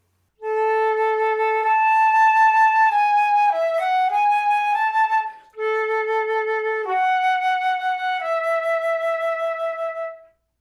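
A simple melody is played on a solo bowed instrument with very little vibrato, long notes held steady and flat in tone, close and even, split into two phrases by a short break.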